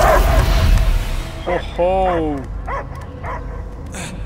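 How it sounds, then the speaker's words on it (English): A dog barks and yips in short, loud bursts in the Marvel's Guardians of the Galaxy video game, with a character exclaiming just before. "I hear only barking."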